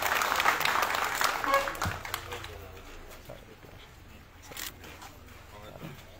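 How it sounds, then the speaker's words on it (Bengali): Crowd applause for the man of the tournament, Sirajul, at a police superintendent's cup badminton final in 2023, loud clapping at first that fades and thins out, with voices and outdoor bustle underneath. "ম্যান অফ দ্য টুর্নামেন্ট সিরাজুলের জন্য জোরে একটা করতালি দেই"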